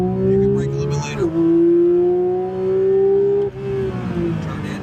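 Porsche GT3 engine pulling hard on a race track, a loud, steady rising drone that dips briefly mid-run and again near the end as gears shift, with an instructor's voice talking over it.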